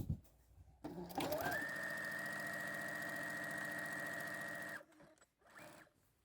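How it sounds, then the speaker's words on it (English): Sewing machine stitching bias binding along a pressed line on quilted fabric, a steady loud motor whir with rapid needle clatter running for several seconds, then stopping with a few softer clicks and handling sounds. "you will sew along the pressed line"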